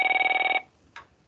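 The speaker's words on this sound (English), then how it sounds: "That's my phone, which we're going to ignore." A telephone rings close by in a short electronic trill that warbles rapidly for about half a second and then stops, followed by a faint brief rustle.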